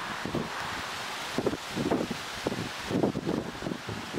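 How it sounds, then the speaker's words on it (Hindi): Hot, dry summer loo wind blows outdoors in rural Manpura, Bampur, near Allahabad, a continuous hiss with surging gusts and rustling leaves, steady and fairly close, with no voices. "बढ़िया फर्स्ट क्लास लू चल रही है जो शरीर को छूते ही सारा पानी सोख लेने में सक्षम है।"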